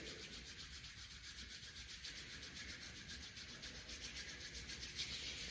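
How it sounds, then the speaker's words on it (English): Palms of the hands rubbed together briskly in a warm-up, a soft, steady, close swishing friction that continues evenly without pause. "We're going to rub the whole palm. We're going to rub a bit faster."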